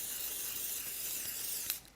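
A steady hiss of glitter spray from an aerosol can runs for nearly two seconds, ending with a brief sharper burst before it cuts off.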